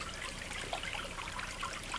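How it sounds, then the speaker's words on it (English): Steady rushing of a mountain creek's running water, close and continuous, with no voices over the broadband flow. "there's no shortage of running water here"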